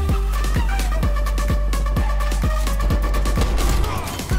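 Rapid gunfire in Call of Duty Black Ops Cold War, a steady rhythmic volley of close, loud shots about twice per second over a dense game soundscape with low booming thuds.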